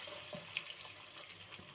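Chopped onion sautés in hot oil, making a steady, soft sizzling hiss with a few faint stirring scrapes; the sound is quiet, continuous and without talk.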